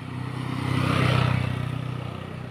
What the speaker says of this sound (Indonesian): Ada motor turun tuh. Wow, kenceng banget ya.